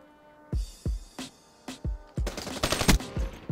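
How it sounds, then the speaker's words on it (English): Automatic sentry gun firing in a hardcore free-for-all video game match, starting with spaced single shots and building into a dense, rapid burst of gunfire near the end, loud and close with no talking. "the sentry gun is pinching up the spawn right now"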